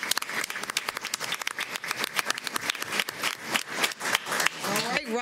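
Audience applause at a school board meeting, a dense run of many hands clapping that holds steady for several seconds and then thins out at the end.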